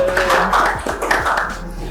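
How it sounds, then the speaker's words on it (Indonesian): An audience at an Indonesian talk event on artificial intelligence claps in a short burst, the applause mixing with a presenter speaking over it. "Tepuk tangan dulu"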